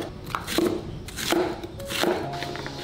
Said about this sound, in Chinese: 拿2个洋葱切成丝